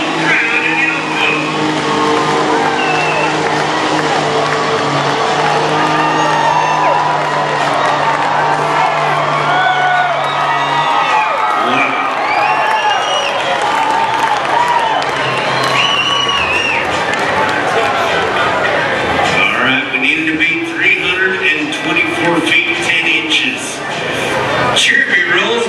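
A diesel pickup truck pulling a sled at a truck pull event in Elko, Nevada, heard as a loud, sustained engine roar beneath a cheering crowd and an announcer talking over it throughout.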